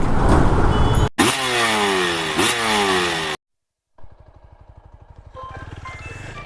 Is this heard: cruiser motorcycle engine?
yes